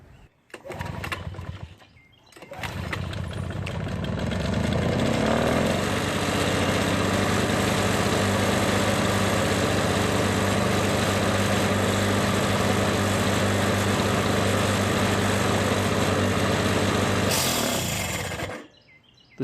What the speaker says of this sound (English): The scraping noises you heard at the end was a completely worn out flywheel brake.